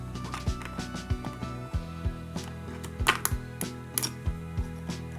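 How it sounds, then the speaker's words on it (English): The pullback sword spring inside a Mattel Minecraft Wither action figure gives faint, irregular mechanical clicks and ticks, quiet and close, with no talk. "I hear it clicking."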